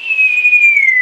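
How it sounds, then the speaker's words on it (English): A person whistles into a microphone, producing one clear sustained pure tone that glides slightly downward in pitch over about a second, loud and close. "Do a whistle."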